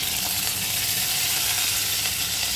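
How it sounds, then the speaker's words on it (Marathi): Bay leaves and curry leaves hit onions already fried in oil for a urad dal dish, producing a loud, dense, continuous sizzle and hiss heard up close with no voices. "कांदा चांगला फ्राय झाल्यानंतर त्यामध्ये आपल्याला तमालपत्र टाकायचं आहे"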